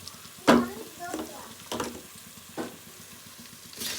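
Half a kilo of chicken frying in a pot for basmati biryani, spurts of sizzling flaring up four times over a low steady bubbling hiss, with faint voices in the background.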